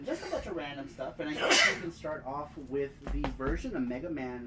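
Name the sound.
sneeze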